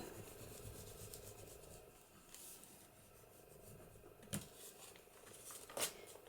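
Folded paper being burnished flat by hand on a papercraft journaling booklet page, a soft quiet rubbing and scraping with a couple of brief sharper swipes near the end.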